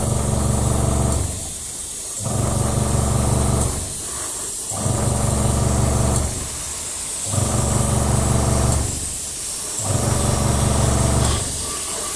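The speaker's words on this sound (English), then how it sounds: "This stuff sprays really nice" Spray coating is applied to the underside of a B-17 model in five or six hissing bursts of a few seconds each, loud and close, separated by short pauses.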